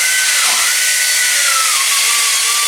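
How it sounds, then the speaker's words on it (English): A grinder cleans up metal parts in a workshop, its broadband whine loud and continuous with the pitch dipping and recovering as the work is pressed against the wheel. "now we'll simply just take them over here to the grinder"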